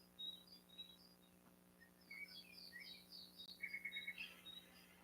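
Birds chirp outdoors in faint, scattered bursts of high tweets over a low background hum, with a busier cluster of calls toward the end.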